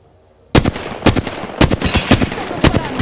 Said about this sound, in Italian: Stanno sparando.